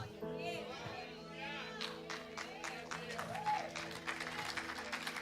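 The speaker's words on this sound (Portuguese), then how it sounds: "Pode aplaudir." Applause at a church service led by a bishop, moderate clapping that builds and continues for several seconds over sustained musical tones.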